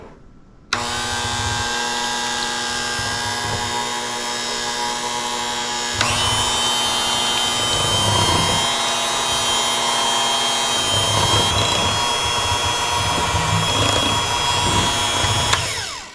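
An electric hand mixer whirs steadily while blending lemon icebox pie filling of eggs and lemon juice, a continuous buzzing drone that shifts pitch partway through and stops abruptly near the end, with no talking.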